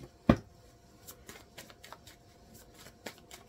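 Tarot cards handled and tidied back into a deck, giving one sharp slap or snap followed by soft, sparse shuffling and sliding sounds up close in a quiet room, with no voices.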